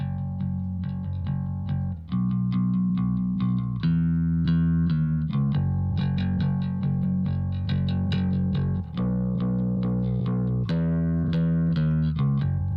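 Kush Audio Omega Transformer plugin adding saturated distortion to a continuous instrumental part, with its 20 dB pad engaged; sustained, harmonically rich tones with rhythmic note changes play steadily and loud throughout, no voices.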